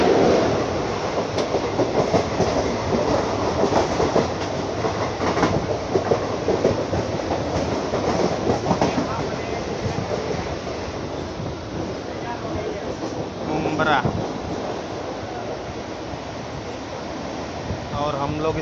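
Mumbai local train running between stations on the line from Chhatrapati Shivaji Terminus toward Kalyan Junction, a loud continuous rumble with rhythmic clickety-clack of wheels over rail joints heard from inside the carriage, steady throughout.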